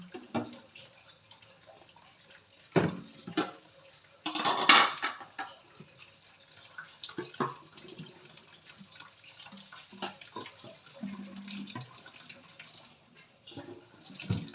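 Tap water runs into empty bottles in an outdoor morning household setting, a faint trickle broken by a few clattering knocks and splashes, with brief quiet voices in the background.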